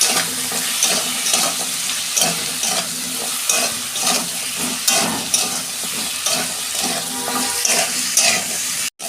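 Vegetables with salt and turmeric fry steadily in a pan, a dense continuous sizzle with stirring scrapes throughout, loud and close with no talk.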